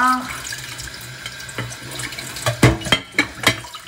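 Tap water runs into a sink while dishes or hands are washed, a steady close stream with splashing bursts and clatter growing louder toward the end.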